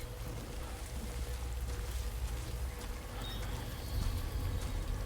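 Steady rain falls in the video game Death Stranding 2, a dense, even hiss of drops on the ground with a low rumble underneath, lasting the whole time.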